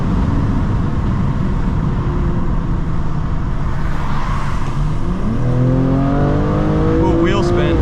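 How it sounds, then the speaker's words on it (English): A BMW G87 M2 fitted with a RaceChip GTS Black tune and Eventuri intakes accelerates hard with wheel spin. A loud steady road roar gives way to a rising engine note in the last few seconds. "Ooh, wheel spin."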